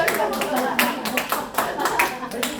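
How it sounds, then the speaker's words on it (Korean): Seniors at a dementia-prevention recreation leader training lecture clap in a loose, uneven burst of hand claps, with a voice speaking over the clapping. "박수"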